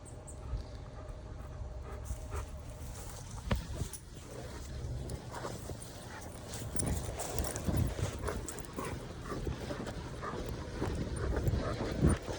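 A tracking dog pants and walks outdoors, soft rhythmic panting and footfalls moving over mixed ground, steady and close, with a low outdoor background and no talk.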